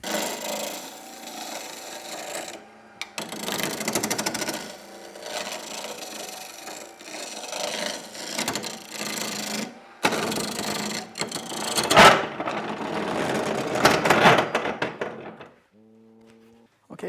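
A wood lathe turns a scrap plywood blank for a desk lamp, giving rough, uneven bursts of cutting and knocking that stop and restart several times before a brief tonal motor spin-down at the end.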